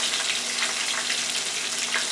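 Porgy fish frying in a thin layer of oil in a frying pan, a loud, steady hiss of sizzling oil throughout with no pauses.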